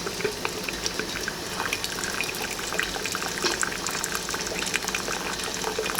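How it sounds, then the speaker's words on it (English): Hot vegetable broth drains from a steam juicer tube in a continuous, faint trickle and gurgle, with small splashes scattered through the steady liquid flow. "I'm going to drain off what's in there"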